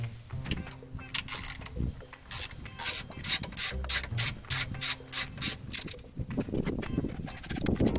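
A ratchet wrench loosens the valve cover bolts on a Honda Prelude, giving a run of quick, close metallic clicking bursts in steady rhythm with short pauses between strokes, alone without talk.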